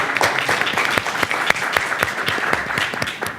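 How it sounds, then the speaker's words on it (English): A panel audience gives close, lively applause, with individual claps clearly audible as sharp, uneven hits within a steady wash of clapping. "you can clap for him."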